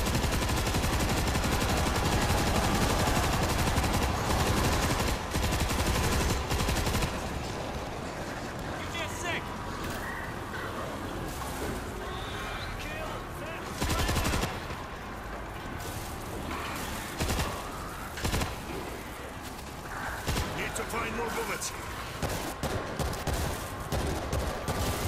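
Heavy gunfire from a big gun in the World War Z zombie shooter, loud and dense for the first seven seconds, then sparser bursts of shots and clatter continuing under game sounds through the rest.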